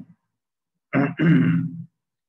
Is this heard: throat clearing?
yes